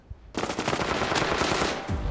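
Rapid automatic gunfire from a shooter video game rattles in a dense, loud burst lasting nearly two seconds, close and unbroken, with no speech over it.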